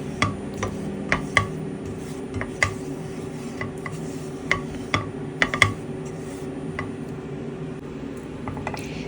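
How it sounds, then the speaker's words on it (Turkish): A spoon keeps stirring a pudding mixture of butter, flour, milk, egg yolk and sugar in a pot on the stove. Scattered light taps and clicks ring against the metal over a steady low hum. "Muhallebi olana kadar böyle karıştıracağım."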